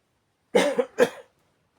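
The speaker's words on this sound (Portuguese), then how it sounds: "Tô tossindo hoje." Two quick, dry coughs in a row from one person, close and clear, followed by silence.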